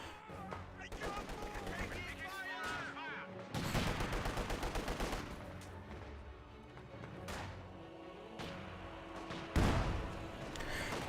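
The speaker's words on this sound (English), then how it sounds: "This gun barrage." Heavy gunfire barrage in Company of Heroes 2, a dense roll of overlapping shots and booms lasting throughout with louder bursts around the middle and near the end, set against constant battle noise.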